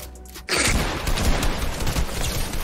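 Rapid gunfire from the video game Fortnite bursts in after a brief quiet start, a dense, loud volley of shots that continues steadily to the end.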